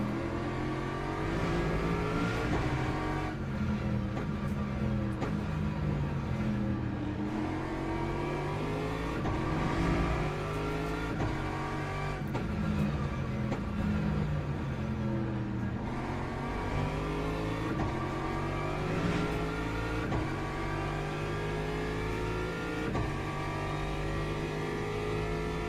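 BMW race cars in the Le Mans Ultimate sim, engines revving steadily with repeated rising and falling pitch as gears shift, a loud continuous roar lasting throughout with no talking.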